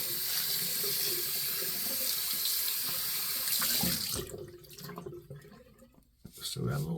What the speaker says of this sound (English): I can rinse it out now and kind of show you what it looks like on the inside